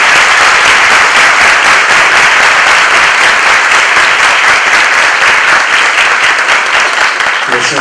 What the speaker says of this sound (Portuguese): eu gostaria de pedir a todos vocês uma salva de palmas a esses meninos